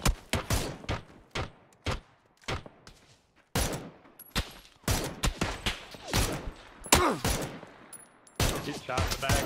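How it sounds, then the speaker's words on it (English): Gunfire in the battle-royale video game PUBG: rapid sharp shots and short bursts in irregular clusters, loud and close, sometimes trading back and forth, with no speech. "I'm shooting back at the guys on orange"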